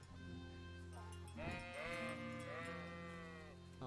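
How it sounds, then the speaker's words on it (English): Sheep in Kingdom Come: Deliverance 2 bleat in a cluster of wavering, overlapping calls over a steady game ambience, several animals crying close by for a few seconds. "Oh, and they're like running away from us as like a sheep herd would."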